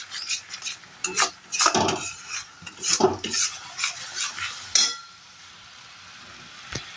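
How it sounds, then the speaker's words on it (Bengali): A spoon scrapes and stirs a thick paste of ground poppy seeds, melon seeds and raisins in a curry pan, a run of close, uneven scraping strokes that stop partway, leaving quiet sizzle. "তো আমি কিন্তু এটা কনস্ট্যান্টলি নাড়ছি"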